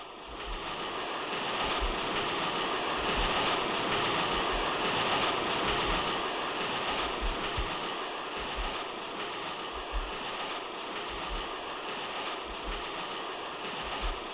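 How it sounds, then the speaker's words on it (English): A diesel-powered passenger train rumbles steadily along the tracks in Malaya with rhythmic low clacks of the wheels, a continuous broad roar throughout. "A luxury train, air-conditioned, diesel-powered"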